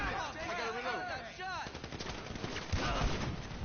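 Automatic gunfire rattles in the GTA 5 Online game, fast bursts under excited chatter from players, fairly close and sustained with one louder shot standing out near the end.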